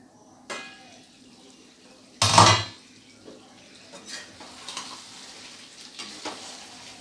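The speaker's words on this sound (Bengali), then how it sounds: "তো আরেকটু আমি কষিয়ে নেব, আরেকটু এটার কালারটা গাঢ় আসবে" Mutton kosha sizzles and is stirred in a pan, with a loud scrape of the spatula, then softer intermittent stirring and frying.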